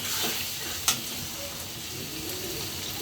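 Tomatoes sizzle steadily in a hot pan while being stirred, with a constant close frying hiss and one brief sharp scrape of the utensil.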